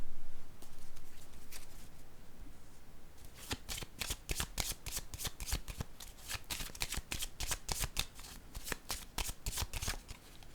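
A card is drawn from a deck with quick, papery flicks that start soft and build into a dense run of crisp, close snaps, much like riffling cards, with no voices.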